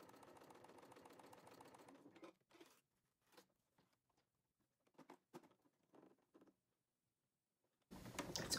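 Hand-cranked sewing machine stitching a pocket down on a Kindle holder with a narrow seam, heard as faint, irregular clicking and tapping bursts after a steadier opening stretch, then a louder rush at the end.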